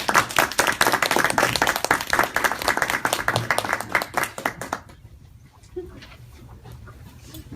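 Applause from an audience at an online webinar club session, dense clapping for about five seconds that then fades into quiet room noise.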